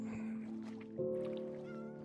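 A cat meows in a video game while the player paddles a boat, the call rising over a steady game soundscape with a faint voice in the background.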